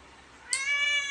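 A single close, clear cat meow starts midway after a faint quiet lead-in and holds a bright, drawn-out tone until the end.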